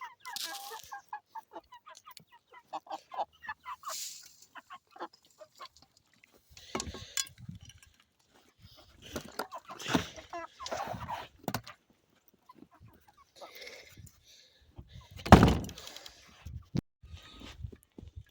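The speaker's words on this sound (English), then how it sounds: "these guys are my Polish chickens" Scattered clucks and soft squawks from a small group of Polish chickens in snow, irregular and close, with occasional louder calls and brief quiet stretches between.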